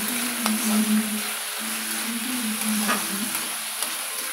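Chana dal frying in oil in a pan, heard as a steady close sizzle with light stirring scrapes and a faint hum underneath, continuous throughout.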